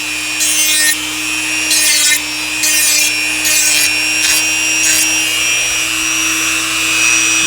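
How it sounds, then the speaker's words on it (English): Rhythmic hand sanding of a model, several short scratchy rubbing strokes in bursts with brief pauses, close and fairly loud over a steady electrical hum. "You just want to sand kind of everywhere."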